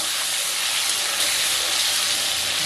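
Potatoes with a little turmeric fry in hot oil for a paneer dish, giving a steady, loud, even sizzle with no talk.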